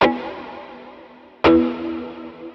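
Two sharp plucked guitar chords through an always-on ambient reverb pedal set to a very long preset, each ringing out into a long, washy reverb tail that lingers and fades.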